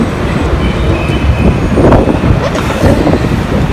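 A New York train rushes past at close range, a loud continuous rumble and roar of rolling cars with faint metallic squeal, steady throughout, no voices on top.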